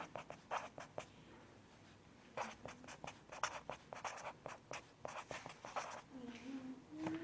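A pen scratches across paper in short, quick strokes with brief pauses between them, fairly soft and close, while a voice talks faintly in the background.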